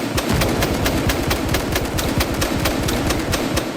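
Rapid continuous bursts of automatic gunfire in the bodycam shooter video game Live Lens Bodycam, loud and dense, rattling steadily throughout without pause.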